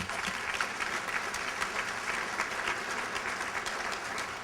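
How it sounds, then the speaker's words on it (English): Sustained audience applause at an awards gala honoring men of excellence, a dense steady wash of many hands clapping filling the room at even loudness throughout. "You can clap for that."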